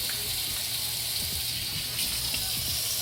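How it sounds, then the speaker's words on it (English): Hands being washed under a running kitchen tap, a steady close gush of water with faint splashes, no talking. "you definitely want to wash your hands because of COVID-19"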